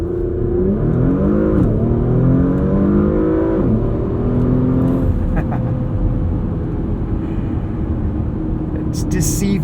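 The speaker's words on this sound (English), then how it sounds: "Maybe let's try one more launch control start here too." A 2022 Porsche Macan S launches hard from a standstill with launch control and traction off, its engine note rising in loud, steady pulls through a couple of gear changes, heard from inside the cabin.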